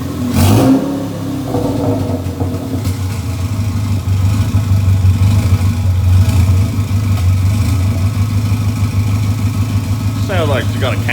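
A bone-stock Subaru engine with a newly fitted turbo fires up on first test, then holds a loud, close, steady rumbling idle with slight revving, and a voice is heard briefly near the end.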